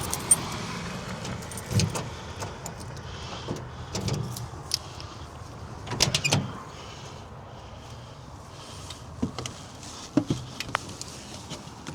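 Inside an old American Clipper car, a key jangles and a scattering of irregular clicks and clunks sound as someone tries to turn it over; no engine catches.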